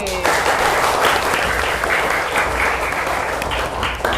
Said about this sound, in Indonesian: Tepuk tangan yang meriah untuk kelompok C.